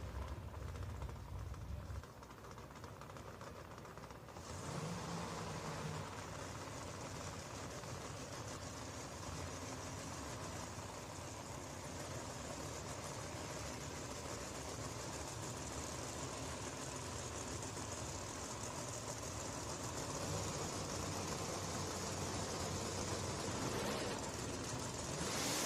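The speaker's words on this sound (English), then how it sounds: "As the engine's coming to life." A race car engine at a racing event sits quietly at first, then catches and rises into a steady, rough idle that drones on at a moderate distance for about twenty seconds.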